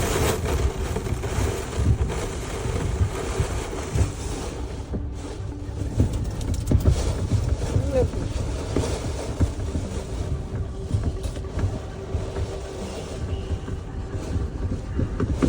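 Strong storm winds gusting around 130 km/h buffet a motorhome, a dense, steady roar of rushing air and low rumbling that swells and dips continuously for the whole stretch, loud and close with no one talking.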